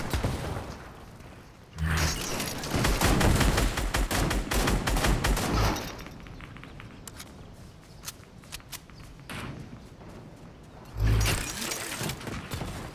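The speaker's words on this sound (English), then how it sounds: "someone's shooting at me" Fortnite gunfire arrives as bursts of rapid shots, a dense volley, then scattered single cracks and another flurry near the end, mid-distance and fairly loud over game ambience, with no talk.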